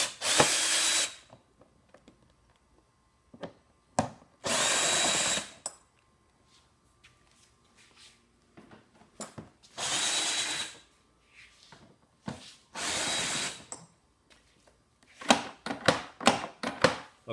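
Power drill loosening screws on a vent assembly during a screen installation, several separate bursts of whining drill, each a second or so, with quiet gaps and a quick series of short pulses at the end.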